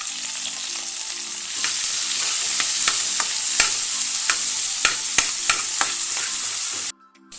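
Fresh grated coconut with turmeric roasting in a pan, a steady close sizzle broken by repeated sharp scrapes and taps of a spatula stirring, with no talk, cutting off abruptly near the end.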